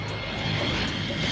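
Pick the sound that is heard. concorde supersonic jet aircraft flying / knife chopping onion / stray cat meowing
concorde supersonic jet aircraft flying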